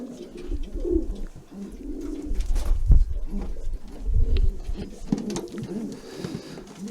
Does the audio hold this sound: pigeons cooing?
yes